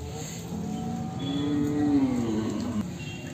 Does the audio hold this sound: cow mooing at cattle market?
yes